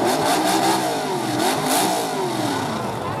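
A modified pulling truck engine at a truck pull in Grantsburg, Wisconsin, revving loud and close with a continuous raw roar and wavering pitch throughout.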